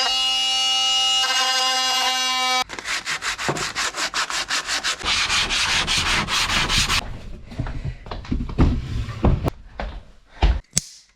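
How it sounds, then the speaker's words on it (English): Wooden skirting board fixed onto insulated plasterboard being hand sanded, a close rhythmic rasping of quick strokes after a steady tonal hum, then slower scrapes and a few knocks. "I'm going to sand this down now so that it will all match in."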